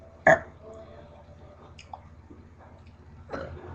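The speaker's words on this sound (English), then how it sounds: "It's okay to burp too." A sharp, loud burp bursts out near the start, followed by a few softer mouth sounds and a second, fainter burp toward the end over a quiet background.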